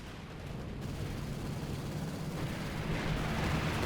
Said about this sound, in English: strafing support coming in with rockets and machine gun fire to hold back that infantry and armor